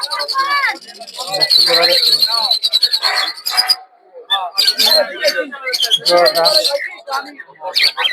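Cockatiels and other caged birds at a bird market in Madhabdi, Narsingdi, chirp and squawk in busy, overlapping bursts close by, with short pauses between flurries.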